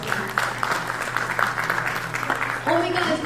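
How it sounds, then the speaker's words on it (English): Audience applause at a blockchain summit awards ceremony, a sustained round of clapping from a crowd with a voice speaking over it near the end. "a huge round of applause, please"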